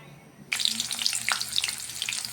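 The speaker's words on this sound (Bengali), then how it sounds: "এখন ভাজি বসাই দিব" Potatoes drop into hot oil and start frying at once, a sudden loud sizzle followed by steady crackling and popping from close by.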